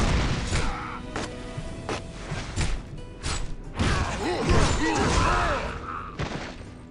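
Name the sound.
Berserker's powerful skill attack in Kingdom Under Fire 2 video game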